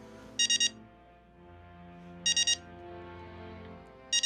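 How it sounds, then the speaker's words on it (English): Beeping alarm clock going off at close range, with bursts of three rapid high beeps repeating about every two seconds over a low steady background hum. "The alarm rings once more"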